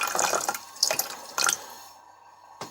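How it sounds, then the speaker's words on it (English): Fresh tap water runs into a bottle in a few splashy bursts with dripping between them, close and clear, then trails off into quiet with a last small splash. "top that bottle up so we're sort of about half full. There we go, some fresh tap water."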